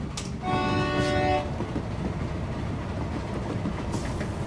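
Fast train racing past in the video game Train Valley, a sharp horn blast over a steady rumbling rush that carries on afterward, with no talk.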